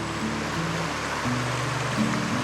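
Low water streams down Pinevale Creek in a constant, even rushing wash, nearby and unbroken, with a soft low hum underneath.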